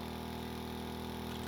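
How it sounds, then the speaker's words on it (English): A tiny modular engine built in the Stormworks video game idles steadily, a quiet continuous mid-pitched drone with a faint regular pulsing throughout and no talking. "that's how you make the smallest engine in the entire game of Stormworks"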